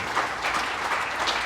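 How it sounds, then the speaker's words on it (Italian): Audience applause at a press conference on the Pedemontana road project, a steady wash of clapping from many hands that fills the whole moment with no voices over it. "Questo è un applauso che chiedo a tutti coloro che sono stati espropriati."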